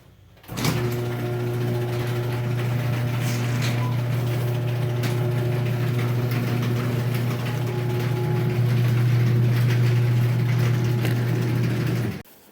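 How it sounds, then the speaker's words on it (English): A garage door opens with a steady mechanical hum and grinding rumble running continuously for several seconds, with faint rattles and no talking. "All right, let's open the garage door."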